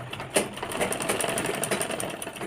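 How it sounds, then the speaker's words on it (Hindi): Sewing machine stitching stretched plastic netting onto a netted frill blouse, a steady close rapid mechanical whir with a brief louder clatter near the start, running continuously with no talking. "पूरे पे इस तरह से ही सिलाई लगा लेंगे"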